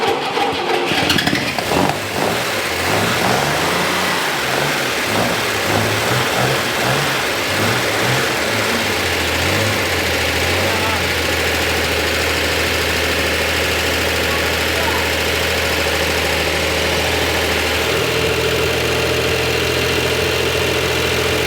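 An off-road vehicle's engine revs up and down, then settles into a steady, loud running note with a continuous mechanical clatter throughout.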